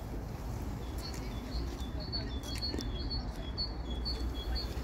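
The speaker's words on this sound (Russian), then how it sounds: "Как птицы поют, друзья." Birds sing and chirp outdoors on the grounds of a monastery, with repeated short high tweets over a steady low background rumble, moderately faint and continuous.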